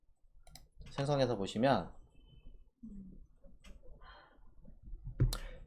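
A computer mouse clicks once, sharp and close, near the end, after a stretch of someone talking.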